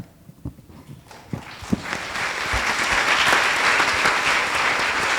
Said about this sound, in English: let's give a final round of applause to our panelists